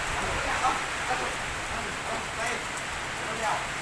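Heavy rain pours steadily on a surface outdoors near a vehicle leaving a pond, a dense continuous hiss with scattered drop patter, loud and unbroken throughout.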